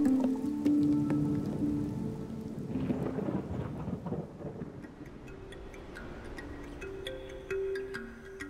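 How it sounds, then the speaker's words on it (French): Rain falls steadily through a night outdoors, a continuous wash with drips and patter, while a low rumble of thunder builds and fades in the background. "Waouh, sous la pluie"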